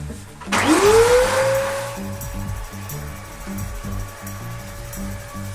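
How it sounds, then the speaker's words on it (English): A shop vacuum cleans dust off a freshly sanded countertop before an epoxy top coat. The motor whines up to speed and then runs loud and steady, with a rush of suction noise that settles into an even hum. "So after sanding, you want to vacuum."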